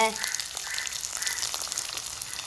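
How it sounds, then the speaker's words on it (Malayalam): Onions dropped into hot oil for a chicken curry, giving a steady broadband sizzle and crackle throughout, close and fairly loud, with faint speech-like sound in the background. "ഇനി ഇതിലേക്ക് നമ്മുടെ സവാളയാണ് ഇടാൻ പോകുന്നത് സവാളയാണ് ഇട്ട് കൊടുക്കുന്നത്"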